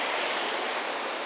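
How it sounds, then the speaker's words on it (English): Steady broadband rush of creek water flowing around a broken-off chunk of rock in Johnston Canyon, Banff National Park, Canada; close, even and continuous with no voices. "The water runs all around it."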